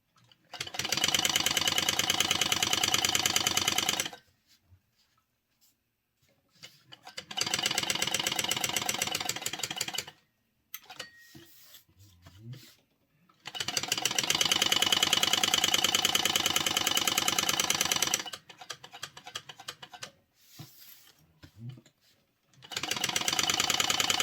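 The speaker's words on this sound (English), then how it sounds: "just with the basting stitch, you're going to top stitch around." A sewing machine top stitches with a long basting stitch around a concealed pocket, running in three loud, steady bursts separated by quiet pauses with faint handling noises.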